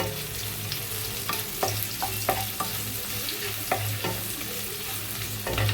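Onions and green chilies sautéing in a pan for a vegetable kurma, with a steady close sizzle broken by sharp spatula scrapes and taps at irregular intervals, and no voices.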